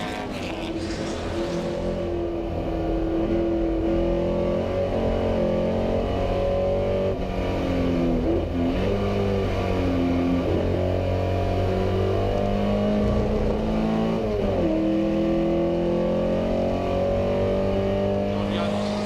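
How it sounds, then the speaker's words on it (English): Classic race cars compete in the Fordwater Trophy at Goodwood Revival, a small MG special among them, with engines droning and shifting pitch steadily as cars close up and pass. A commentator talks over the racing throughout. "Lovely little MG special being overtaken there."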